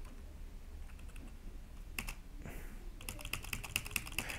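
Computer keyboard typing while editing Free Pascal code, quiet at first, then clusters of crisp keystrokes and a rapid run of clicks near the end.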